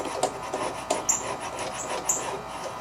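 A socket wrench is jiggled back and forth on a rusted, stuck drive disc of a Snapper Ninja mower, producing short scraping rubs and light metallic clicks repeating close by.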